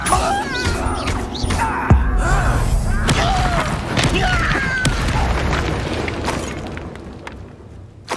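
Spell effects in the Hogwarts Legacy video game, Incendio among them, come as a dense run of booms, crashes and whooshes during combat at an encampment, loud and continuous with sharp impacts and a faint voice now and then.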